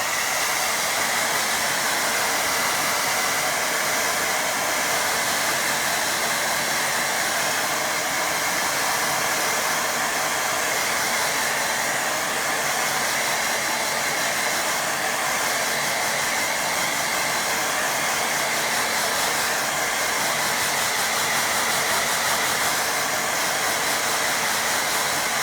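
A hair dryer blows steadily on a watercolour painting, a loud continuous whirring roar that holds unchanged throughout with no talking.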